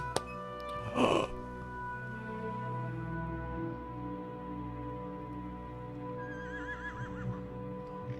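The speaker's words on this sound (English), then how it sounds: "Horse." A horse whinnies once near the start in the video game Tactics Ogre: Let Us Cling Together, a brief bright burst over a steady droning musical background with a faint rising trill later on.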